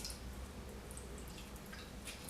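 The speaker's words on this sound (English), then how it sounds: "We will empty this water." Water emptied from a basin after washing hair extensions, a continuous splashing pour with a few drip-like spatters, close and steady throughout with no talk.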